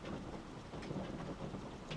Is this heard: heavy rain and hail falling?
yes